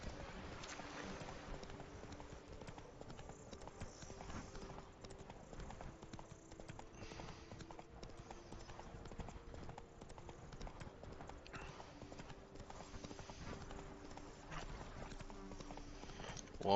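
Horse hooves clip-clop at a steady walking pace throughout in The Witcher 3, a continuous rhythmic patter under faint game ambience, with no talking.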